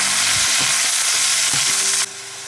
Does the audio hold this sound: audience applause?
no